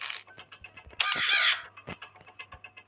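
A crow in the horror game Granny lets out a single loud, harsh caw lasting about half a second, set among quiet, evenly spaced clicking taps like keyboard presses.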